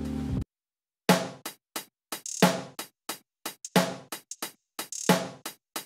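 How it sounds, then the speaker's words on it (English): Vintage snare sample from a Boombap Beat Pack, with a gritty old-school feel, hitting in a steady beat pattern of loud, snappy cracks with short decays, after a brief burst and a pause, no voices present. "And then I added a snare which sounds like this."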